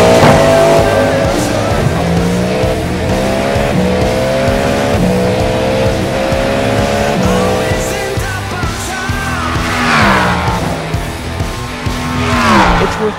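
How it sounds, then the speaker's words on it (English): Cadillac V-Series-R GTP race car in iRacing: a loud, continuous engine roar rising and falling through gear changes and downshifts, with brief tire squeal, heard alone without talk. "the Cadillac V-Series-R is one of the best-sounding cars in the game"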